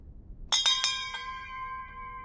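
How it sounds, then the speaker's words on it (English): A bell gives a few quick metallic strikes, then a bright ringing tone holds and slowly fades, clear and up close with nothing else in the background. "He rang the bell without presenting any food."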